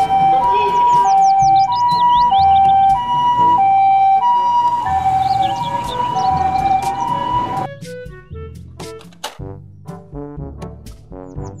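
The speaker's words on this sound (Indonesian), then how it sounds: "Mobil ambulans." A loud two-tone ambulance siren wails steadily and close for several seconds, then gives way to a jumble of toy-like electronic beeps and music.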